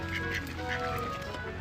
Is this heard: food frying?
no